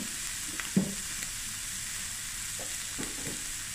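Small chicken pieces sizzle steadily in a hot pan, a constant close hiss broken by a few soft clatters and stirring knocks, with no voices.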